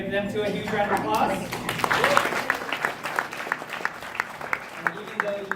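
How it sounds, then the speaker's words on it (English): Audience applause at a sales event, with voices talking over the start before separate, fairly close hand claps settle into a sparse, rhythmic round. "Give them to a huge round of applause"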